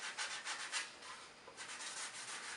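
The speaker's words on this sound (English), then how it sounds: "it'll conform to the curve radius that you're sanding on" A flexible sanding pad rubs back and forth over a curved surface, giving a faint, steady scratchy rasp with gentle rhythmic strokes and no voices.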